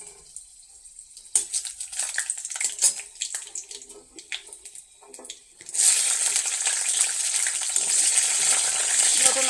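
Chicken fries in a pan, first with scattered crackles and pops, then a loud steady sizzle that swells up midway and fills the rest of the stretch, close and continuous.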